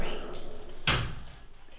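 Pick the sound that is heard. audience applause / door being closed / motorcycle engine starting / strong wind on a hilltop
door being closed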